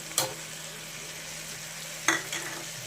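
Ginger garlic paste is stirred into vegetables frying in oil, heard as a soft, steady sizzle broken by two brief spatula taps against the pan, faint overall and without talk.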